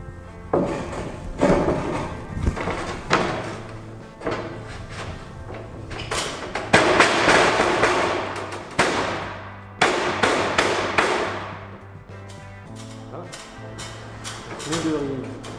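Fascia board being screwed back onto a flat-roof garden shed, with repeated bursts of a power screwdriver whirring, knocks and wooden thuds ringing through the hollow timber structure, up close and fairly loud.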